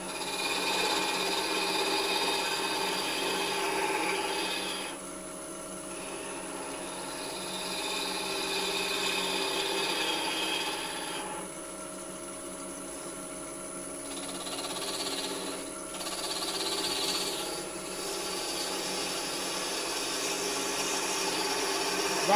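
A skew chisel cutting a thin wooden peg on a spinning lathe, a steady whirring scrape with hissing bursts of cutting that swell and pause in several passes, close and with no voices.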